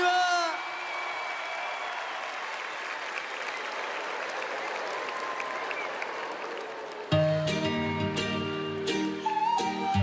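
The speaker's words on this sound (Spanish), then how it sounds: "¡Bienvenido con este aplauso!" Large audience at a televised telethon in Viña del Mar applauds to welcome a guest, a steady wash of clapping with cheers and a voice over it, then music abruptly takes over near the end.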